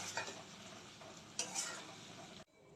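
Spice paste of turmeric, chili powder, cumin powder, salt, sugar, yogurt and cashew paste sautéed in a pan for jackfruit kofta curry: a steady soft sizzle with scraping stirs that cuts off abruptly near the end.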